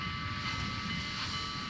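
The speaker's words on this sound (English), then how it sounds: "The largest operating steam locomotive in the world is the Union Pacific's number" Union Pacific Challenger No. 3985, the steam locomotive, gives off a continuous loud hiss and rumble with a steady high whine and a faint rhythmic rail clatter.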